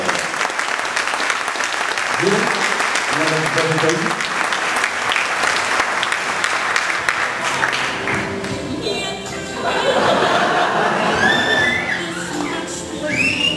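A live audience at an evening show breaks into sustained, loud applause with scattered cheers and whistles, while a host speaks over the clapping.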